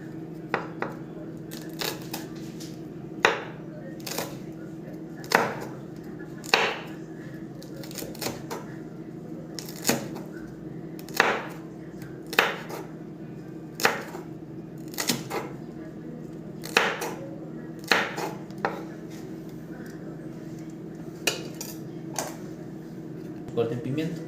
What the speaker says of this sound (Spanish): ahora procedemos a hacer el corte pluma, lo que es en el pimiento. El corte lo hacemos lo más finamente posible.